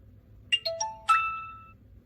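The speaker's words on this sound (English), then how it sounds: "And the notification tone," An IWO 11 PRO smartwatch playing its notification tone: a short, bright electronic chime of a few quick notes, the last one ringing on and fading, alone against a quiet background.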